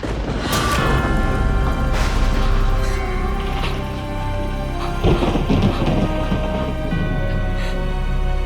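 A thunderstorm rumbles with rolling thunder and steady rain, loud, deep booms swelling and fading over several seconds with a sharper crack midway.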